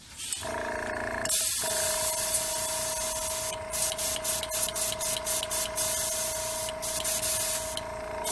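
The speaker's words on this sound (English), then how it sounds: "We're going to spray just a little bit of crimson red." An airbrush or spray can hisses steadily while crimson red paint goes onto a flat back shad fishing lure plug, first as a long continuous spray, then in a run of short bursts.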